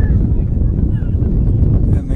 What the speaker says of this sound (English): these windy conditions, Rob, you'd test the keeper from distance